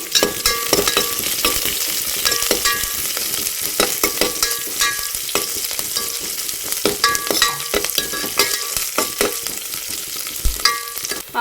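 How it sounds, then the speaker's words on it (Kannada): Onions sizzle steadily in hot oil while a spoon scrapes and stirs the pan in a home kitchen, with close, continuous crackling and frequent rhythmic scraping and no talking. "ಇವಾಗ ಈರುಳ್ಳಿ ಬೇಯ್ತಾ ಇದೆ ಇನ್ನೊಂದು ಸಲ ಮಿಕ್ಸ್ ಮಾಡ್ತೀನಿ"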